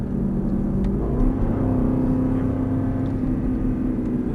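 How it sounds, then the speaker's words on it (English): Aston Martin GT race car on a track in Las Vegas, engine droning steadily and building under throttle out of a corner, loud and close throughout. "Now we turn in, and we get back on the throttle."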